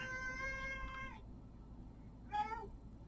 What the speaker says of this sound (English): Apparently my cat has very strong opinions about incorporation.